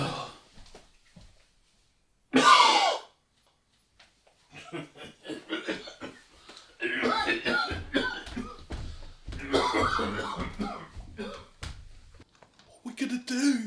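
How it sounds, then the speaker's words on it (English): A man gives a single loud, harsh cough burst at close range, followed by quiet pauses and muffled talking and stirring in a room. "If he keeps coughing like that everywhere, we're all fucked."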